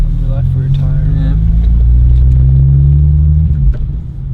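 A rebuilt BMW E92 335i with a manual gearbox and a flat left rear tire rolls along on its first drive, a loud, close, steady low engine drone heard from inside, with people talking over it.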